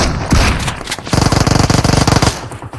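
Loud, close automatic gunfire in PUBG Mobile: a couple of short bursts, then a long rapid rattle of evenly spaced shots that trails off into a few final rounds.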